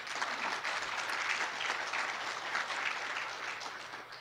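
A nonprofit summit audience gives a steady, even round of applause. It sounds somewhat distant and quiet but continues unbroken for the whole stretch.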